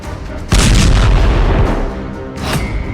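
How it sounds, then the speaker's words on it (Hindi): An explosion from an Israeli strike near Damascus, Syria, hits with a loud deep boom and a sustained rolling rumble lasting over a second, then another burst follows shortly after. "धमाके का तीसरा वीडियो"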